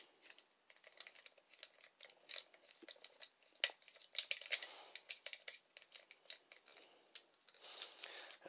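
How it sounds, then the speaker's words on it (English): Pistol grip screwed onto the bottom of a 1970 Quarz-5 Russian 8mm cine camera: a quiet run of small clicking, scraping and ticking mechanical sounds, close up and irregular, with no talk. "Fit the pistol grip, which just screws in"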